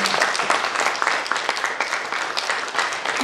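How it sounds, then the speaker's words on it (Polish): Steady, full applause from the audience at a district culture gala in Biała County, Poland, filling the hall in an even wash of clapping without a break. "Wielkie brawa dla biblioteki"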